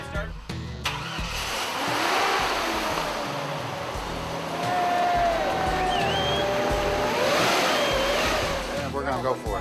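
A car engine cranks and catches, then settles into a steady running idle with some revving, close and loud, with faint voices around it.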